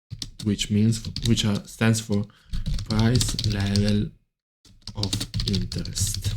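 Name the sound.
computer keyboard typing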